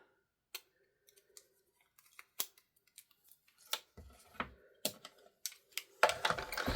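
Scissors snip through pre-stamped card pieces, making a string of short, sharp cuts that start sparse and faint and grow busier and louder toward the end, with no one speaking.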